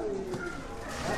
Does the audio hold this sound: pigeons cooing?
yes